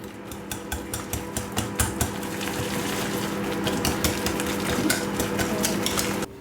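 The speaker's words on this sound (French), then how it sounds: "Et là, je mélange." Spoon scraping and stirring a hachis parmentier mixture seasoned with nutmeg in a pot, close and steady, with repeated clinking strokes and a faint sizzle underneath.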